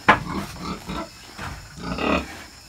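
Pigs on a farm during a farrowing treatment give a series of close, loud grunts and oinks, one sharp squeal at the start followed by several rhythmic grunting bursts.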